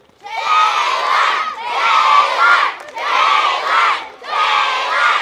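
A crowd of school children makes a sustained roaring drumroll noise with their voices, swelling in four long waves with brief dips between them.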